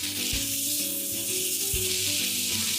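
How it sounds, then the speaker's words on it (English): Tofu and vegetables stir-fry in a hot pan with a close, steady sizzling hiss, broken by a couple of sharp clacks from the spatula, with soft background music underneath. "As you stir-fry everything, break up the tofu into small pieces."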